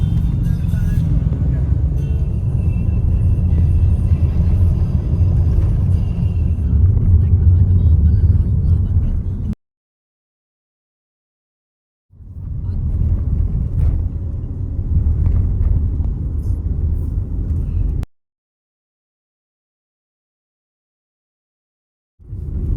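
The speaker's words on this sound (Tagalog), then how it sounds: "medyo traffic siya dito banda" Road traffic heard from inside a moving car in Maribojoc, Bohol, a loud steady low engine and tyre rumble broken by two stretches of dead silence.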